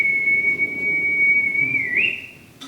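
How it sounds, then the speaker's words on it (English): A steady, clean whistle tone held for about two seconds during a puppet slam performance, wavering and bending upward near the end before cutting off, alone over a soft room hum. "Is your whistle clean?"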